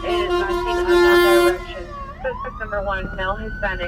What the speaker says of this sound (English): I'm hearing some sirens. This is an ambulance.